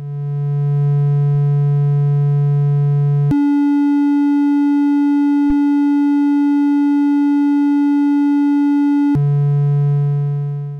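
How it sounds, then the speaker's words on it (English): A sustained synth oscillator tone jumps up in pitch, holds with a brief click midway, then drops back to the original lower pitch. "We can also do things like play with the frequency."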